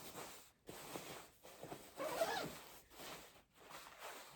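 Zipper on a jacket pocket pulled in several short quiet rasping runs separated by brief pauses, close and faint.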